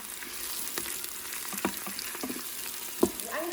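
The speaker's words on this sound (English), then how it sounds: "Onion's gonna cook it till translucent, about 2 minutes total." Onion sautéing in an Instant Pot sizzles softly and steadily up close, with occasional stirring scrapes and a sharper clink near the end, no talking.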